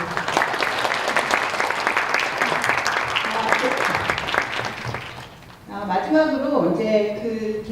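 A seminar audience at a software testing design contest claps together, steady and sustained for several seconds, before a speaker's voice takes over as the clapping fades.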